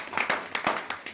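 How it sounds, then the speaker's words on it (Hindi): Scattered handclaps from a small audience at a large home meeting, honouring a guru. The claps are brief, faint and uneven, with no talking. "तालियां हो जाए"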